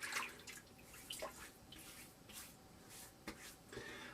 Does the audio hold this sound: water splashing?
yes